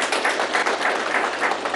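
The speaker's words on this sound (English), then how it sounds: "Maybe we can end it as we clap for everyone here who has done a good job" An audience claps at the close of a live panel discussion on health coverage, a soft, fairly distant patter of hands that stays even throughout.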